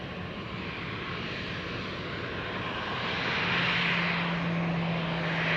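An airliner lands on runway 23 at Madeira Island Airport, a steady jet-engine rumble with a rising whine that grows louder midway through.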